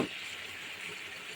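A meat roast, cooked with nut and raisin paste, is being sautéed in a pan. A steady, even sizzle runs throughout at moderate volume, close by and uninterrupted.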